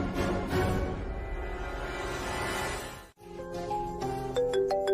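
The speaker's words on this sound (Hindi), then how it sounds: "यार ये फोन क्यों बजते हैं?" A phone rings indoors with a repeated electronic ringtone: a sustained tonal ring, a brief break, then brighter melodic chime notes resuming toward the end, no talk.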